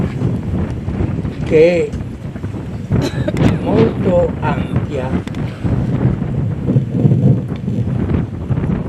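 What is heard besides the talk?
wind breeze noise outdoors at night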